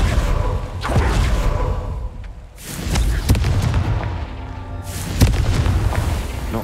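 Blasting-curse explosions from a fantasy action video game ring out as several loud, booming blasts with whooshing tails, spaced a few seconds apart and heard alone.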